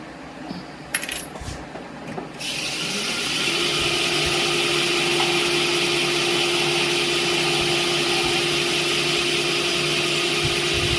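A drill bit enlarges a pilot hole in a metal head meant for blade set screws: a few light metallic clinks, then the motor spins up into a steady, loud whine that holds to the end.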